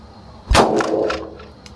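A single loud, close HK P7 pistol shot fires once, with a sharp crack and a ringing tail that trails off over about a second.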